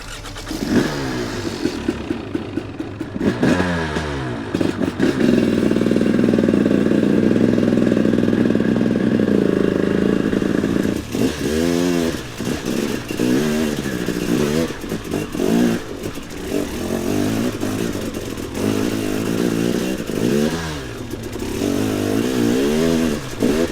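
A studded-tire motorcycle rides on ice, its engine revving and accelerating loudly up close with steady rising and falling pitch sweeps, running continuously throughout with no talk.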